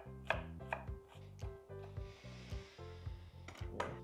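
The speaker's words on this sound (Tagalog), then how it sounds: "Now I will mince my onions. I'm using white onions for this." Knife mincing white onions on a cutting board, a steady run of close, sharp chops repeating roughly every half second, no talking.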